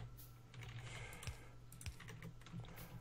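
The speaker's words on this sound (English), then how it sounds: "I'm just shift clicking there as well" Mouse and keyboard clicks from shift-clicking in the video game Factorio, a steady patter of quick taps at close range with a couple of sharper knocks, no voices.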